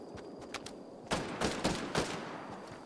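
Fortnite gunfire crackles in a rapid volley, several sharp distant shots followed by a louder cluster of bursts, with no talk over them.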